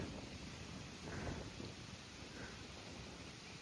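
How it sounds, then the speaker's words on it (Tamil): Steady rain pours over open farm fields planted with turmeric, a continuous soft hiss of falling water with faint low rumbles, distant and even throughout. "பாருங்க சுற்றியுமே மழை பொழியுது."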